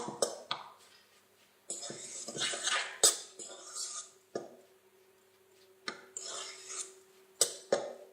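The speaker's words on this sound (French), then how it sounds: "mélangez bien. Vous allez obtenir une pâte" A spoon scraping and stirring walnut cake batter in a bowl, in intermittent close bursts of rubbing and clinking separated by quiet pauses.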